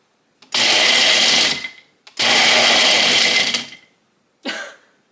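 A blender grinds dried peppers into flakes in two long, loud bursts of high-speed whirring, each about a second and a half, followed by a brief shorter pulse, close up with silence between.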